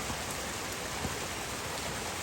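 Steady rain falls over farmland where ducks are kept, a soft, even hiss of drops without any voices.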